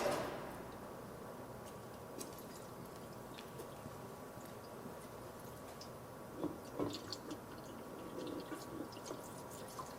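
Engine oil drains from a Mazda Miata ND3 during an oil change, a faint, steady trickle of liquid with a few soft drips and splashes.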